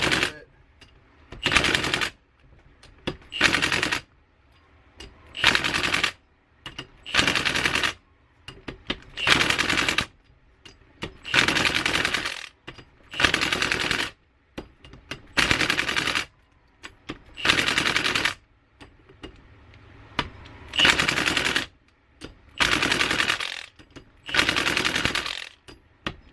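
Bolts on a B series limited-slip differential in a GSR hatch are driven down in a steady series of about a dozen loud rattling bursts, each roughly a second long, separated by short pauses.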